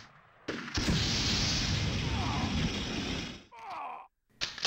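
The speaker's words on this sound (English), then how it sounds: "may as well see what the flamethrower does to live targets" A flamethrower in the video game Army Men Sarge's Heroes is fired at live targets, giving a loud sustained roaring blast of about three seconds that cuts off into brief, fainter game sounds.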